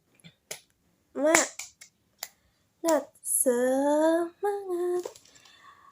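During a children's storytelling lesson, a teacher leads a rhythmic clapping chant: sharp, crisp claps in a patterned beat alternate with short sung or chanted vocal phrases in a quiet room.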